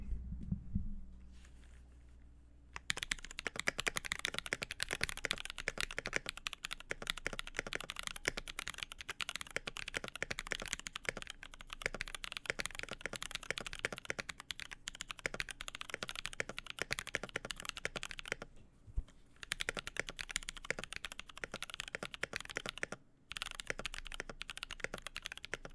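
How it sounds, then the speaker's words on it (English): A typing test on a 65% stacked acrylic mechanical keyboard, a rainbow unicorn build: after a quiet start, rapid continuous keystroke clacks run close and crisp for over twenty seconds, with a couple of brief pauses. "So let's get this typing test going."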